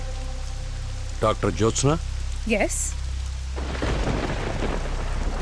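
Rain pours and thunder rumbles outside during an indoor film scene, a steady storm wash that swells louder after people briefly speak.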